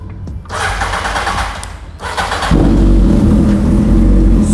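A custom Honda CB 929 RR 1000cc motorcycle engine cranks with brief starter bursts, then catches and settles into a loud, close, rough, rumbling idle that fills the second half.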